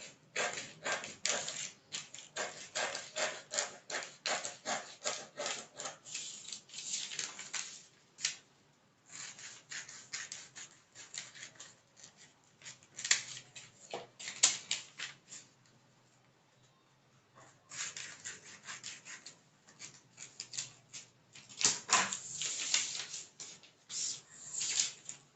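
Scissors cutting out a paper corset pattern, with bursts of crisp snipping and paper rustling close up, pausing briefly mid-way before resuming.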